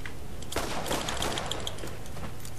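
A revolver firing a rapid three-shot burst in the video game Borderlands: quick sharp cracks in tight succession, fairly loud and close, followed by a clattering tail, with no talk over it.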